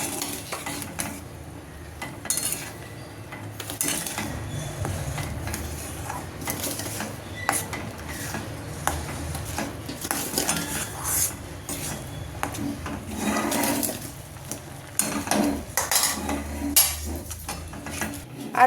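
Rice flour stirred into hot, lightly salted water in a pot, a steady close scraping and stirring with soft clinks of utensil against metal, running continuously with no talk.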